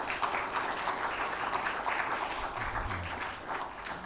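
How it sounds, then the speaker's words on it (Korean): A chapel audience applauds the string accompanists, producing a steady, moderately faint wash of clapping that runs throughout with no talking. "우리 현악기 반주해 주시는 분들에게 다시 한번 감사의 박수하겠습니다"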